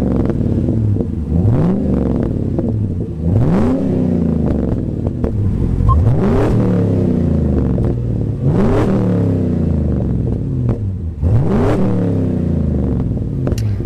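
A deep, loud Corvette V8 in a Land Rover Defender revved hard again and again with the exhaust cutout open, about five rising and falling bursts over a continuous throaty rumble.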